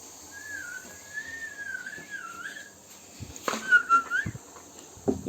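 A whistle blows in a home kitchen: a thin, wavering, sustained tone that glides up and down, then a shorter whistled burst among faint clatter and knocks, moderately close.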